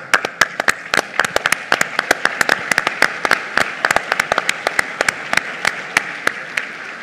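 Audience at a Peruvian university forum applauds with sharp, distinct claps in a steady rhythm, fairly loud and close, with no talk over it.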